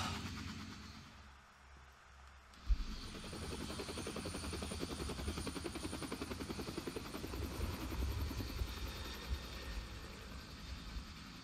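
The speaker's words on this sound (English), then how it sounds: "they ride off into the sunrise with a helicopter" A video-game helicopter flies in, its steady rotor thrum starting abruptly after a quiet couple of seconds and then droning loudly and continuously with fast blade chop and engine whine.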